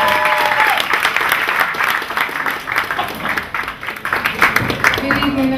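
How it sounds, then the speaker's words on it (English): A crowd at a hip hop magazine launch party gives EST Poetry a warm round of applause, continuous loud clapping with whoops and scattered voices mixed in, swelling and fading slightly. "So can everyone please give a warm, big round of applause for EST Poetry."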